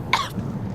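A single sharp cough, close and fairly loud, followed by a brief throaty tail and quiet room noise.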